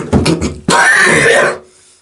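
A person wearing a PMK gas mask coughs: a few muffled short coughs, then a longer harsh hacking burst that cuts off into near silence, close and loud.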